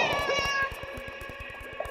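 A cat meows in a French audio drama set at an opera, heard over a soft background of sustained tones and light rhythmic tapping.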